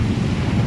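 Thunderstorm with heavy rain, a loud low rumble of thunder under a dense wash of rainfall, brief and close.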